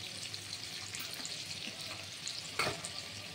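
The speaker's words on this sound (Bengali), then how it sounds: "পেঁয়াজের সাথে আলুটা আস্তে আস্তে ভাজা হবে" Sliced potatoes and onion frying slowly in a pan, a faint, steady low sizzle with a brief louder clatter midway.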